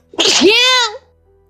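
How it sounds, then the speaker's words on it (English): A single loud, close sneeze with a sharp intake and a drawn-out, tonal burst lasting under a second, then quiet; it happens during a tabletop role-playing game session among friends. "It was a sneeze."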